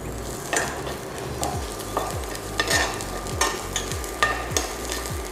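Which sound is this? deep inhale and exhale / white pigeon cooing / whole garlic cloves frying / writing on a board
whole garlic cloves frying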